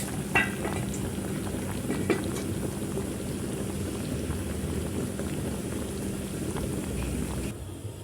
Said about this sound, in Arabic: هنا عندي بصوا الفرخه بتتسلق اهي اهي